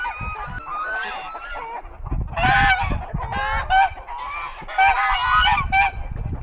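Several geese on a ranch honk loudly in repeated, overlapping bursts, close by and harsh, with no voices heard.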